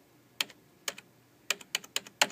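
Keys clack on a new Dell computer keyboard, loud and close, in seven sharp strokes: two spaced presses, then a quicker irregular burst, with no talk.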